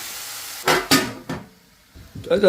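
Metal clatters and clanks as a lid goes onto a pot of beef curry. Two sharp knocks come close together, then a softer one, followed by quieter scraping.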